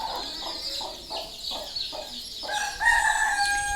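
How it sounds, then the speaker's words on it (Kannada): Chickens cluck in a series of short repeated calls at a home, with a rooster crowing near the end; the calls are close and fairly loud, with no talking. "ಕೋಳಿ"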